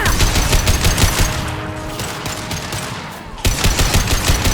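Rapid automatic gunfire from the video game Mass Effect 2 rattles loudly in dense bursts, easing briefly into a quieter lull before the shooting resumes at full intensity.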